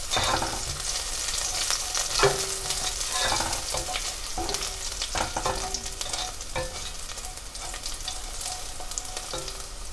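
Chopped garlic is stirred into onions frying in a pan, with a steady sizzle and repeated scraping knocks of the spoon throughout, close and continuous.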